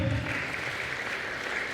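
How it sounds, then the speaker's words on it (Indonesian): An audience at a Kartini Day dialogue event applauding, a dense steady wash of clapping from many hands that holds evenly through a short burst. "Tepuk tangan dulu yang meriah dong."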